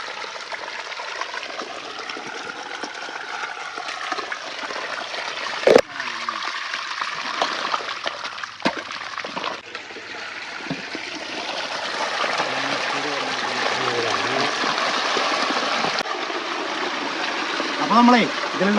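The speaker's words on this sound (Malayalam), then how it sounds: "ഈ ചാലിങ്ങനെ പൊട്ടിച്ചു ഈ വെള്ളം നേരെ ഇതിലൂടെ ഇങ്ങനെ ഒഴുകി പോകട്ടാം" Water from an opened pond dam rushing through a freshly broken earth channel, a steady close gurgling flow with splashes, while a person talks over it.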